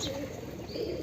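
A black pigeon on a rooftop gives a brief soft coo, low and close, lasting about a second.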